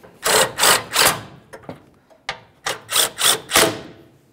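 A ratchet wrench snugs up 10mm headed mounting bolts on the A/C condenser bracket of a 2010-2013 Ford Transit Connect, giving several quick clicking bursts with short pauses between them, close and clear.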